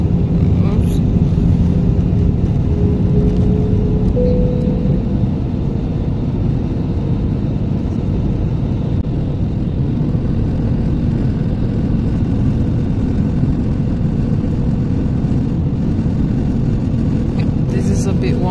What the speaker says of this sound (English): This is a bit wonky landing.